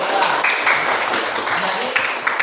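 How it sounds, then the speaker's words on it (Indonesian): A classroom group gives a short round of applause, the clapping sitting under and between people talking. "Kasih tepuk tangan untuk Yanti dan juga Bella."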